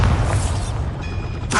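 A Bombarda explosion spell goes off in Hogwarts Legacy, a deep booming blast with a rumbling low tail and a second burst near the end, loud and close.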